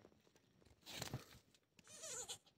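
A newborn goat kid bleats faintly twice, with short wavering cries separated by rustling and crunching in a quiet barn setting.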